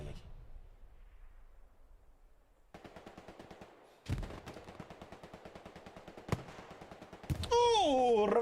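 Bursts of rapid automatic gunfire rattle through a Hell Let Loose battle, with sharp louder blasts cutting in between, a rising whine near the end and a commentator's voice running over the fighting.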